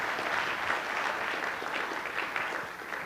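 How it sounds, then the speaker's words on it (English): A congregation applauds Rotary Club members at a church service, an even, continuous roar of many hands heard from a little distance, with no talking over it. "You can clap for them, amen."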